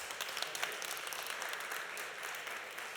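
A conference audience claps steadily throughout, a dense, moderately distant wash of applause with no voices over it.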